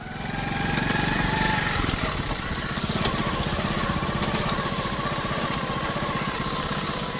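Motorcycle engine running steadily throughout while riding along a road near the Baradari in Lahore, a loud close buzzing drone with a slight shift early on.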